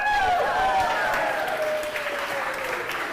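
Crowd cheering and applauding at climbing finals, a steady wash of clapping with scattered whistles and shouts, heard together with voices.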